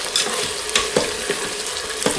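Ñora pepper paste sizzles and fries with rice, chicken and rabbit in a pan, a steady loud crackle broken by a few scraping stirs, with no voices.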